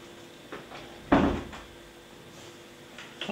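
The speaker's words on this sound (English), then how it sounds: "and I'll close that door." An indoor door swings shut with a single solid thud during an audition recording, preceded by faint handling sounds, with a softer knock near the end.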